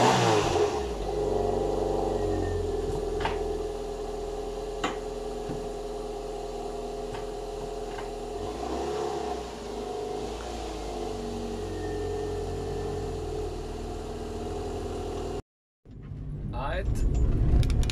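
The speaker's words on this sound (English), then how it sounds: "This is a cold startup of a Toyota Corolla 999." Toyota Corolla engine idling steadily after a cold start, close and loud, a low constant rumble that cuts out briefly near the end before resuming.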